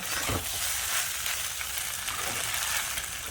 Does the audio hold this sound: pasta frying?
yes